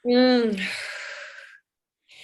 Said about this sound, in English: let's just take a minute right here and do a nice deep breath. All the way down.